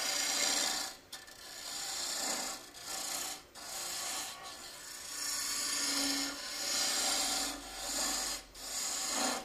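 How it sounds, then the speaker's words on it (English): A bowl gouge scrapes along the edge of a wooden goblet stem spinning on a lathe, giving a dry raspy scraping that swells and fades in repeated passes, close and quiet with no talk. "I'm just running the bowl gouge along this edge"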